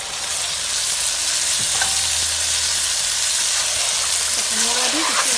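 Ash gourd pieces are fried and stirred into a duck curry, producing a loud, dense, unbroken sizzle with occasional scraping from stirring.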